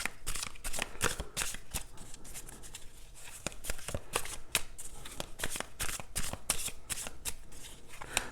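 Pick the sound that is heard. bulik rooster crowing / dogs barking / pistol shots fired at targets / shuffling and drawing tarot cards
shuffling and drawing tarot cards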